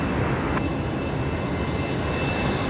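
A United airliner pushes back at Brisbane Airport, its engines giving a steady, broad roar heard at some distance, continuous and even, with a faint thin tone running through it and no speech.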